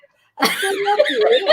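One sneeze bursts out after a brief silence, loud and close, with a voice continuing right after.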